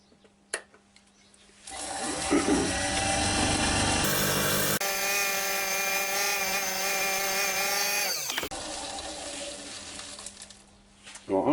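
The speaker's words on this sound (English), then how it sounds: "I'm just gently taking any high spots and ridges off now with the round nose scraper" Round nose scraper taking gentle cuts on a sycamore bowl spinning on a wood lathe, a steady whining, buzzing tone with ringing overtones that runs for several seconds, then shifts pitch and eases off, loud and close.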